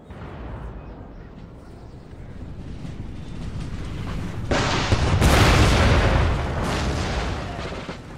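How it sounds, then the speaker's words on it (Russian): Heavy booming artillery cannon blasts in the video game Empire: Total War rumble and crackle in a sustained, noisy barrage, loud and close, with rolling echoes between shots. "И начнем обстрел шведских позиций."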